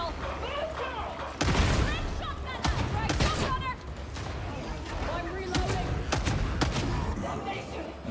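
Bolt pistol shots ring out in Warhammer 40,000: Darktide, several sharp booming reports spaced irregularly among game effects and combat noise, with a voice talking over them.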